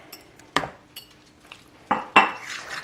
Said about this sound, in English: I'm just going to give that a gentle toss, just enough basically to mix and coat.